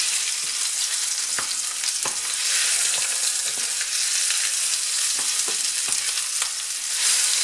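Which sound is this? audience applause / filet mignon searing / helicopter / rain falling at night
filet mignon searing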